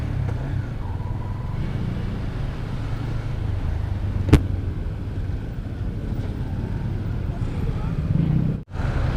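Heavy road traffic on España street in Manila, heard from a motorcycle rider in the middle of it: a dense, steady rumble of engines with wind buffeting the microphone and one brief sharp click partway through.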